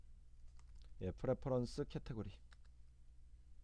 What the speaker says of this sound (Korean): 교재에 나와 있는 거를 한번 그대로 한번 타이핑을 해볼까요?